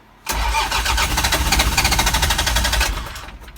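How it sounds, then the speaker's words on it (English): A sailboat's diesel engine cranks on the ignition key, a loud, rapid rhythmic churning that lasts a few seconds without catching, then winds down, heard up close with no voices. "Now get someone to go up with the ignition key and just turn it over."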